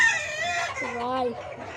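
Vaccinated farm chickens give a loud, close crow with rising and falling harmonic tones, blended with clucking and a soft murmur of voices.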